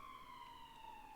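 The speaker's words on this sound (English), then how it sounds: "ambulance going by" An ambulance siren wails faintly in the distance, a single steady tone sliding slowly downward as it passes, heard alone without talk.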